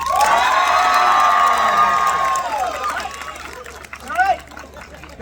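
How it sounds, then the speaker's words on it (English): A Renaissance festival crowd at a blades and bravery show breaks into loud cheering and applause, with whoops and shouts that swell and then fade into scattered voices. "Round of applause if you think I should throw them first."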